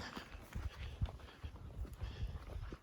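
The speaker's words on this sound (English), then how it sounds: "Come on, donkey donk." A donkey walks on desert ground, its hooves thudding softly in an uneven clip-clop, faint and close, with no talking.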